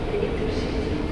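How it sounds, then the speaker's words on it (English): A moving train gives off a steady, close, low rumble with broadband roar throughout a short stretch. "That is my train right there."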